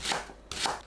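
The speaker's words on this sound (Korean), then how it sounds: "대파를 썰어주세요." A knife slicing green onions into thin rounds on a board, two soft, brushing cuts close by with a brief pause between them.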